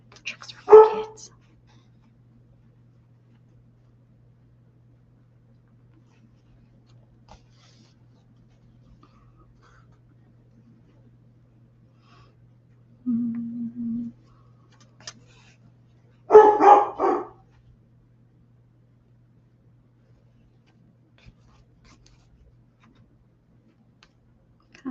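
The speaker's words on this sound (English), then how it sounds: "Roof, roof, roof. Silly dog." A dog gives a few short, sharp barks spread apart in a quiet indoor room during crafting, with a faint steady hum underneath.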